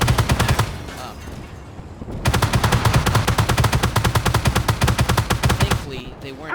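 Sustained machine gun fire from a tank in the Armored Warfare video game, rapid bursts of rattling shots with a brief pause before a long, loud continuous string of fire.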